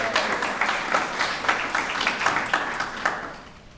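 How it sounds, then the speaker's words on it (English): Audience applause at a commemorative event in Wilmington, a steady wash of many hands clapping close by for several seconds, tapering off at the end. "can we give them a round of applause"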